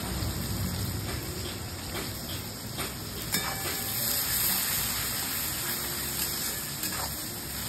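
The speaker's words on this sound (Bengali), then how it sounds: "কুচনো পেঁয়াজগুলো একটু লাল লাল করে ভেজে নিচ্ছি" Chopped onions fry in oil with whole spices and black cumin in a Bengali kitchen pan, a steady soft sizzling hiss heard close and alone.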